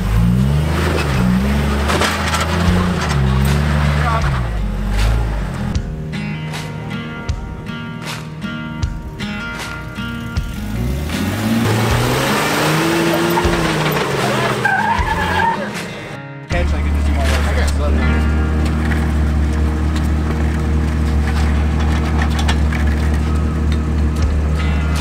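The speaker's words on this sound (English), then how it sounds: "His rear tire ended up sliding against a rock." Off-road vehicle on the Moab rock trails straining up a rock hill, engine revving and surging with bursts of tire scrubbing against rock, loud and close, then a steady idle after a brief cut.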